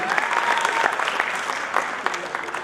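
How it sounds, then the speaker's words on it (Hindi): A theatre audience claps steadily through a brief burst at a comedy stage play, many hands blending into an even crackling wash with faint voices underneath. "प्लीज दोनों के लिए जोरदार तालियां हो जाए"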